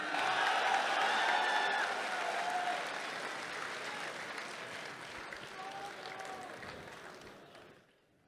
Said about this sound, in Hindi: आप सबकी भरपूर तालियों में तशरीफ़ लाएंगे